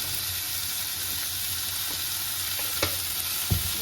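Mushrooms and peas sauté in a salted pan with a steady, soft sizzle, a few light clicks of stirring poking through near the end, and no voices.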